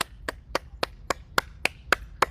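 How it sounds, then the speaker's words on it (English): Hands clap firmly to stimulate the heart in a summer wellness exercise, nine sharp, evenly spaced claps in a steady rhythm of roughly three to four per second, close and alone with no talk. "Now we're going to clap to stimulate the heart."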